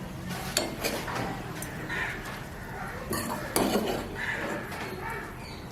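A spoon stirs a vegetable dish in a metal pot while preparing Shivaratri vegetarian food, giving repeated close scraping and clinking knocks against the pot over a low kitchen background.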